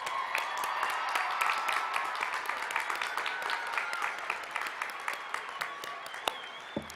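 A graduation crowd at Amarillo High School applauds steadily for honored students standing with purple and white cords, a dense, moderately distant wash of clapping with sharper individual claps near the end.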